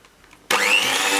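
Electric whisk beating pumpkin dessert ingredients with icing sugar, switching on abruptly after a moment of quiet into a loud, steady high-pitched whirring buzz.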